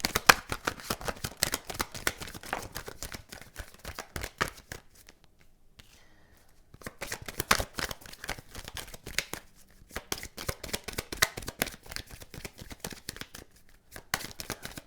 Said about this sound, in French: On va recouvrir un petit peu les cartes pour voir